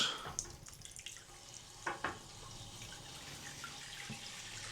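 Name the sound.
hot water tap running into hotel bathroom sink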